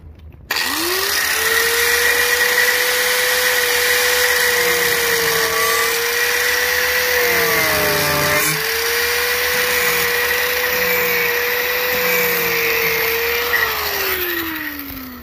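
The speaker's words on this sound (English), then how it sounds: "I'm about to turn on the grinder again, so it's about to get loud." A power grinder cuts into a carbon fiber side skirt for a 2017 Toyota 86, a loud, close, continuous whine that dips briefly under load midway before winding down at the end.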